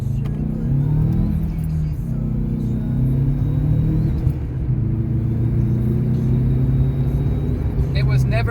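Turbocharged Toyota Corolla accelerating hard, a steady loud engine drone with rising harmonics that climb through the gears, heard from inside the car with a voice talking over it.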